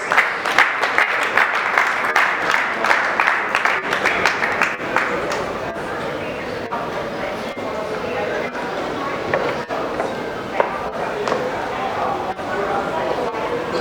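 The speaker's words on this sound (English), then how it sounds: "Let's give him a round of applause, please." Conference audience at the Nigeria International Print Expo 2022 applauds a keynote speaker with a dense, even wash of clapping that holds steady for the full stretch.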